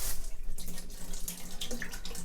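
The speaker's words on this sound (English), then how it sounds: "First stop, a long, refreshing shower to wash off the day." Water runs steadily from a shower in a small villa, a close, continuous splashing rush with slight fluctuations and faint drips, no voices.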